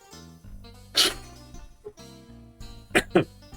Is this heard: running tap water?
no